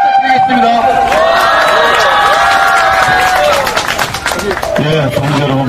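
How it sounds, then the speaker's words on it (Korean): Crowd at an outdoor rally against the Korea-US FTA claps and cheers, dense applause mixed with shouting voices and tonal chanting or music over it, loud and continuous throughout. "여러분 다시 한번 힘찬 박수 부탁드리겠습니다."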